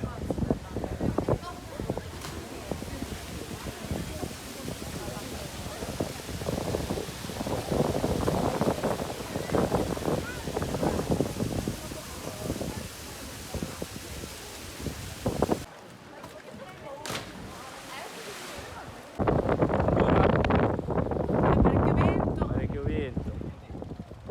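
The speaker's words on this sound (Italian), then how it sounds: "C'è un po' di vento, eh?" Steady wind roars and buffets the microphone outdoors near the sea on the Cinque Terre coast between Corniglia and Manarola, with people talking over it; the gusts drop briefly, then return strongly.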